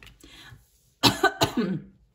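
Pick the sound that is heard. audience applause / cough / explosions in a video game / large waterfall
cough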